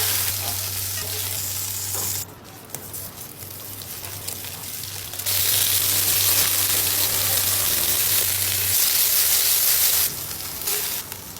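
Beef fries in oil with garlic in a pan, giving a continuous crackling sizzle that swells and eases as pieces are added and moved around, close and steady, with no speech.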